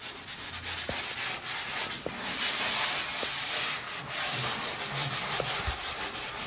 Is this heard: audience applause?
no